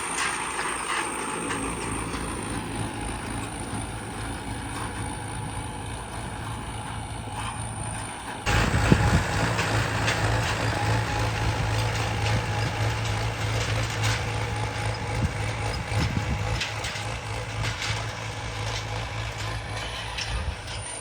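An International tractor pulling a 1992-model disc harrow through a field drones steadily, its engine and clattering implement growing louder and rougher about halfway through and then continuing as a constant mechanical rumble.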